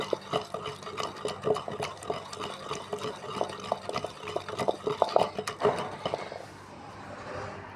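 Mango, onion, and green and red chillies are pounded for chutney in a wooden mortar with a stick: quick, steady, close-up thumping and squelching strikes, slowing and fading toward the end.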